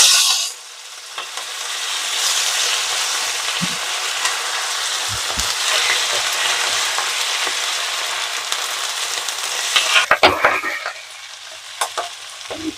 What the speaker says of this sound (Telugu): ఈ నువ్వులు చిత్తుతూ ఉంటాయండి